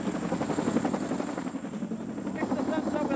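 Chinook helicopter, a twin-rotor heavy-lift machine, roars steadily up close with a dense, continuous whine and rotor buzz throughout.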